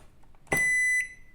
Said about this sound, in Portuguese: Se ela bipar normalmente e não acender nada a lâmpada, é sinal que a placa está boa.